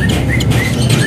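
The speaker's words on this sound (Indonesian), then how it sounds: "Tuh, udah nyerecet dari burung cucak kinoinya." At a bird market, a cucak kinoi songbird chirps in short repeated high notes over a loud, dense wash of crowd and market noise.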